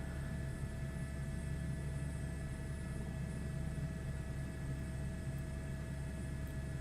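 Helicopter in flight heard from inside the cabin, a steady droning rotor and engine hum with high whining tones, continuous and moderately faint, as the pilot manoeuvres toward a quick stop.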